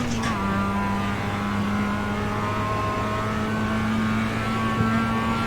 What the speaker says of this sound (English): So let me ask you again, Jonathan, second or third gear in the hairpin?